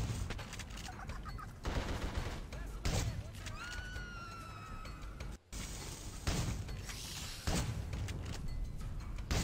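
Gunfire bursts from a video game, likely The Suffering, punch through steady background noise with several loud clusters of shots spread across the span, and players talk over them.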